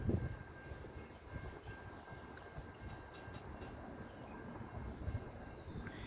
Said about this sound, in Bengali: এই যে ট্রেনটি ঢুকছে,